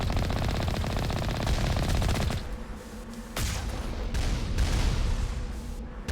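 Rapid automatic gunfire aimed at the player in the video game Mass Effect: Legendary Edition, a dense rattling burst that breaks off, then scattered heavier shots and impacts continue, loud and close, with no talk.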